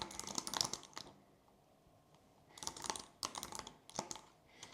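Typing on a computer keyboard while planning: quiet bursts of rapid key clicks separated by a pause of about a second, close and alone.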